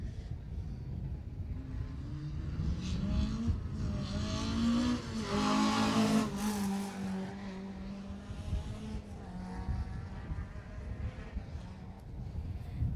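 Peugeot 205 rally car on a rally stage in Jersey, engine revving and changing pitch as it drives past, swelling louder in the middle then fading, heard from a distance over outdoor background noise.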